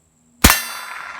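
A suppressed .45 pistol shot fitted with a Rugged Obsidian 45 suppressor, firing Remington ammunition into a steel target: a single sharp, loud clang that rings and fades over about a second.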